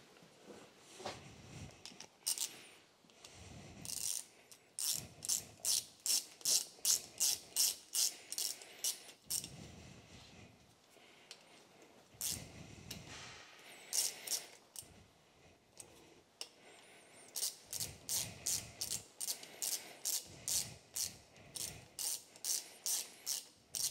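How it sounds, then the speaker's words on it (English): A ratchet with a 9/16 socket works on a Ford Anglia engine under restoration, giving close, crisp bursts of rapid clicking strokes separated by short pauses, repeated over and over. "Let's get a 9/16 socket."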